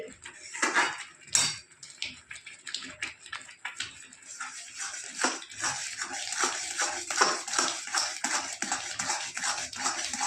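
A spoon scrapes and clinks rhythmically against a pan while upma is stirred over low heat, a steady run of close metallic scraping strokes with brief pauses and a faint voice in the background.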